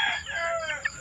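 A Shamo rooster crows once nearby in a short, strained call, with no other sounds around it.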